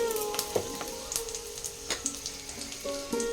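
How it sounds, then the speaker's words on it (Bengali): Cumin, bay leaves and dried chillies sizzle in hot oil, a steady crackling fry with a few sharp pops, heard alongside faint tonal background music. "এই তেলের মধ্যে দিয়ে দেবো জিরে, তেজপাতা, দেবো দুটো শুকনো লঙ্কা"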